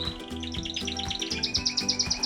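A canary in a bird shed sings a rapid run of bright, high chirps and trills, close and clear, with a steady rhythmic tapping underneath.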